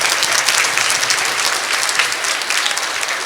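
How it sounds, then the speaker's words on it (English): A school assembly audience applauds veterans on Veteran's Day, loud sustained clapping from many hands filling the room evenly, with no voices standing out. "Let's give them another great big round of applause."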